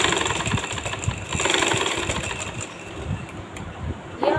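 A sewing machine stitches gathers into fabric for a salwar, a rapid rhythmic mechanical chatter rising and easing in pace, close and fairly loud, no voices.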